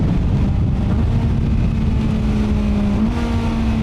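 QJMotor SRK 921 four-cylinder super naked motorcycle, its engine droning loud and steady with a sustained low hum, close by, with no voices.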